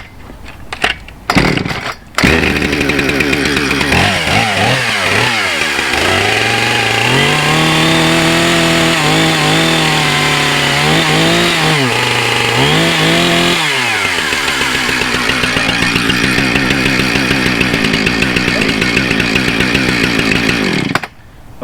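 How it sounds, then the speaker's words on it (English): A Husqvarna 460 Rancher gas chainsaw takes a few sharp pull-start tugs, then catches and runs loud and close, idling and revving in surges for well over fifteen seconds before cutting off. "It took a couple pull starts, but it started right up."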